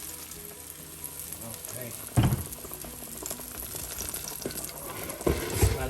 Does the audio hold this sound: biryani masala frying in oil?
yes